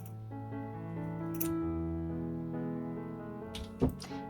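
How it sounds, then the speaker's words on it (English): Scissors snip through beading thread once near the end, a short, soft cut set against steady background music while seed-bead stud earrings are made. "now let's simply cut the thread"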